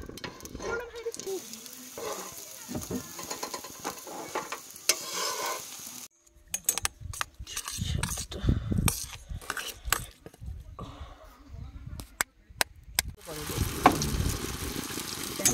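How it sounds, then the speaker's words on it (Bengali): Two bread slices toasting in a dry pan without oil for egg toast at a campsite by Pansua Dam, Jharkhand, with a soft sizzle under frequent clattering stirs and utensil knocks against the pan. "তো দুটো পাউরুটি ভাজতে তেল লাগবে না।"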